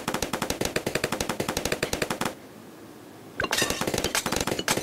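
Rapid bursts of machine-gun and sniper fire from Bloons TD 6 towers rattle continuously, stop for about a second of quiet, then resume in dense, loud strings of shots.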